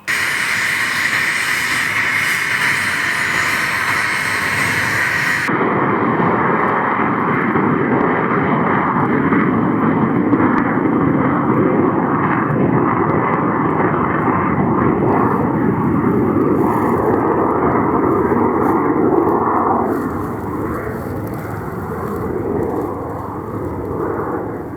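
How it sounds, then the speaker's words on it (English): An Alpha Jet military aircraft's engine roars steadily as it is readied for combat, a loud continuous jet rumble that shifts in tone early on and eases slightly near the end. "The Alpha jet was also being readied for battle."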